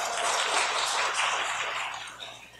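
A church congregation applauds a New Year holiday greeting during a Sunday service, a dense, steady wash of clapping that holds strong, then thins and fades toward the end.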